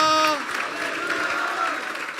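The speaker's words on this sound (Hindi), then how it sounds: "तो फिर परमेश्वर यीशु के जलाल के लिए ऐसी तालियां बजाएं जैसे मुबारक लोग तालियां बजाते हैं।" Applause from a church congregation during a sermon, a dense wash of many hands clapping together, steady and fairly loud after a brief sung or held tone at the start.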